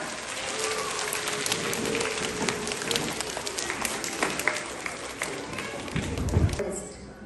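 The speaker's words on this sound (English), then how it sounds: "A big round of applause for everyone." Class 3 children applaud after a maths olympiad round, a crackling, rain-like patter of many small hands that holds steady for several seconds, then swells briefly before stopping.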